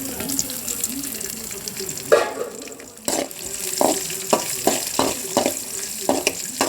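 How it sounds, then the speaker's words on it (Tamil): Cashews frying in ghee for rava ladoo give a low steady sizzle, then a burst of louder spluttering followed by a run of spoon scrapes and clinks against the pan, close by with no talk. "பருப்பை நம்ம நெய்யில் போட்டு வறுத்துக்கலாம்"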